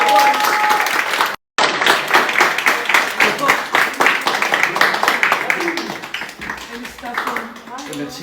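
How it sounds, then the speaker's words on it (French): A group claps and cheers for Anis in a lively, sustained round of applause with voices chattering throughout, broken by a brief dropout early on and tapering near the end. "on puisse tous applaudir Anis"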